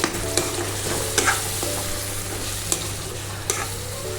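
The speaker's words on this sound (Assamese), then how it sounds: "ভেদাইলতাখিনি দিয়াৰ পাছত আকৌ এনেদৰে অলপ টাইম লৰাই আছো" Broiler chicken with bhedailota leaves frying in a pan, a constant close sizzle with a low steady hum beneath and a few sharp spatula knocks as it is stirred, no talking.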